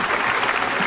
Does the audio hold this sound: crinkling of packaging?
no